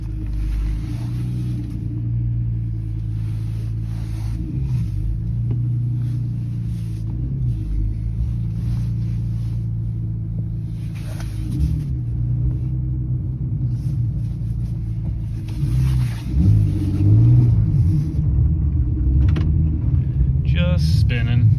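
A 2015 Honda Civic FB2 with a shuddering clutch runs with a deep, steady engine rumble that swells louder toward the end, while people talk over it.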